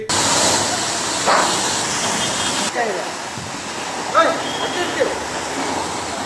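Water gushes from a burst pipeline by a road with a steady, loud hiss and rush, close by, while people talk briefly over it.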